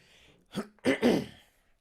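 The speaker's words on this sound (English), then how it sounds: "don't mean to blow anyone's ears out if I'm clearing my throat into the mic" A person clears their throat close to the mic: a short rough catch, then two louder, gravelly rasps.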